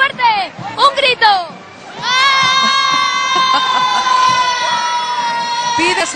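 A crowd of children at the 2011 Three Kings parade in Madrid gives a long, loud, sustained group shout on cue, held for several seconds right after brief adult talk.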